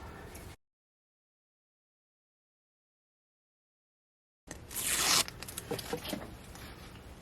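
Packaged fabric bought at Dollar Tree is opened, with crisp plastic crinkling and tearing up close after a long silent gap, the rustling continuing in irregular bursts.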